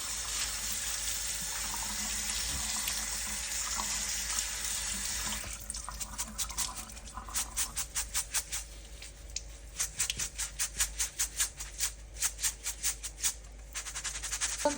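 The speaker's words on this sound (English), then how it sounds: "So now I'm washing my rice" A tap runs steadily into a sink, then the flow turns to rhythmic swishing and splashing as rice is rinsed and stirred under the water.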